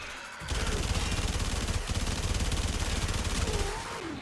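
Rapid automatic game gunfire in Warframe, aimed as body shots at an enemy: a sudden start into a fast, evenly pulsing stream of close, loud shots sustained for several seconds.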